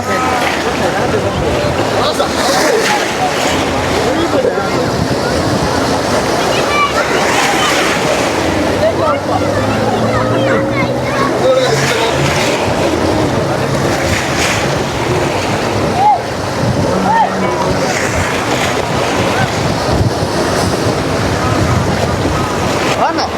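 Racing boats speed across the open sea off Jaffna, their engines a faint drone under constant wind buffeting and surging waves, with people talking throughout.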